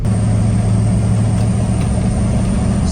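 A 4wd Kodiak truck camper's engine slowing from about 30 mph with a turbo brake engaged, giving a loud, steady, close low-pitched drone with a constant roar and no pauses.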